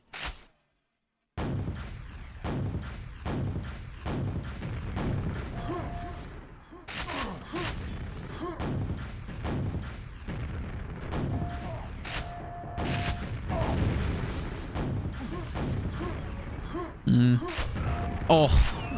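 Rocket launcher shots and blasts in a competitive video game match, a dense run of sharp repeated bangs and thuds at a quick uneven rhythm, loud and close, with occasional beeps and a louder burst near the end.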